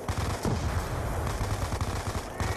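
Short bursts of automatic gunfire crackle in Call of Duty Zombies, a quick string of close, rapid shots over a busy game background, with no talk.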